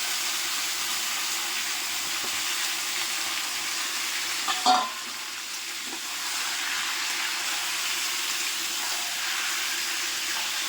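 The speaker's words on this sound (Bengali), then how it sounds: "মাংসটা একটু ভেজে নিচ্ছি আগে, তারপরে মশলাগুলো দিয়ে কষাবো।" Continuous sizzling of meat frying in a pan, with a short clank of a utensil midway before the hiss settles back.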